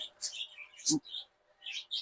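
Java sparrows at a bird market in Fatullah, Bangladesh, give a quick run of bright, high chirps and tweets with short pauses between them, close and fairly clear, and no talking.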